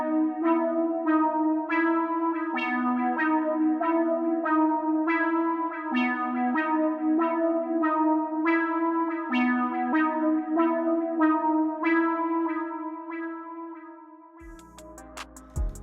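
A catchy synth top line melody on the HS Gong Fission preset plays bright, bell-like repeated notes in a steady rhythm with echo, sustained for several bars before fading out into a brief noisy tail.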